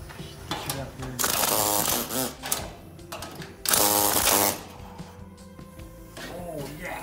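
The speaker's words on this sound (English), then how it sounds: "Can't get it loose with this air chisel." An air chisel works at the glued-in window of a school bus being converted, hammering in two loud bursts between quieter stretches, with people talking nearby.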